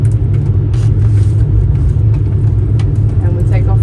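A flight-simulator aircraft engine runs at full throttle for a touch-and-go take-off, a loud, steady low drone and rumble filling the whole stretch with faint voice traces over it.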